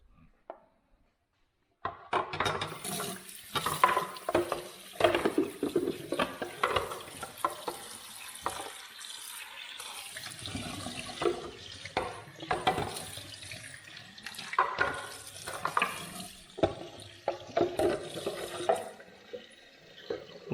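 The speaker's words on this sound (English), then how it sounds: "this reservoir, so we're gonna rinse this" A CPAP water reservoir is rinsed under a running tap, water splashing and gushing against the plastic in a steady stream with clatters of handling, starting after a short quiet moment.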